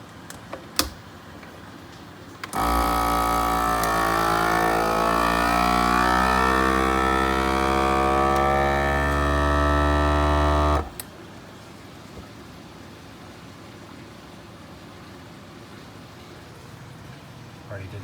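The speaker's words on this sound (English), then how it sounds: "I busted out my vacuum sealer and saved the rest of the hops" A vacuum sealer seals a bag of hops, a loud continuous motor whir lasting about eight seconds with quiet room sound on either side.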